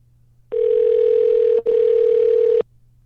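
Two long electronic ringing tones sound through a phone line, a one-second burst, a brief break, then another, steady and loud, with no voices.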